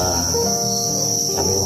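Crickets chirp in steady, continuous trills that fill the whole stretch alone, loud and close, with a constant high drone behind them.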